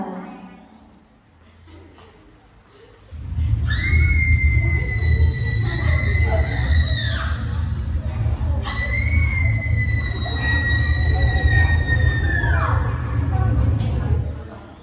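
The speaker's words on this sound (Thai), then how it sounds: "เสียงกรีดร้องอันน่ากลัวของนางยักษ์ ดังใกล้เข้ามา" A giantess's frightening scream draws near in a Thai audio drama, two long high wailing cries over a loud low rumbling roar that swells in at the start.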